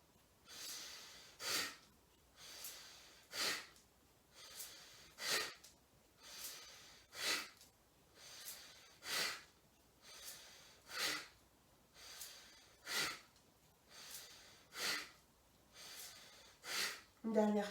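Forced pranayama breathing, a steady run of about ten sharp, rhythmic breaths roughly every two seconds, each a loud, close, hissing rush of air through the nose with brief pauses between.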